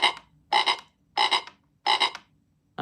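A Crazy Frog toy gives four evenly spaced electronic frog croaks, each a buzzy double pulse, close and clear, with silence between them and a fifth starting at the end.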